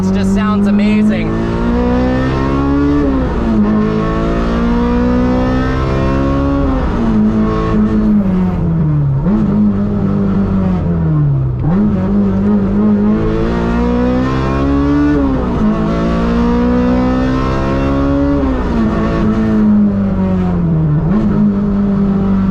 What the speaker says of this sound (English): that exhaust just sounds amazing